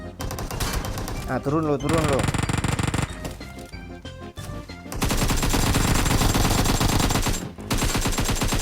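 Gunfire in PUBG Mobile, near and loud, with rapid automatic bursts and sustained volleys over a busy game soundscape, a short spoken remark slipping in between.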